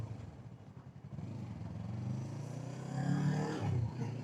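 A Yamaha R3 parallel-twin motorcycle engine hums steadily under way at moderate revs around 4,500–5,000 RPM, its low drone building in loudness toward the end of the ride.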